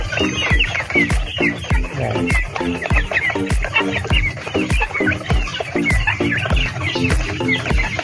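A flock of Rhode Island Red chickens raised on a small farm clucks loudly and close by. Their busy, overlapping calls run continuously, with no talk.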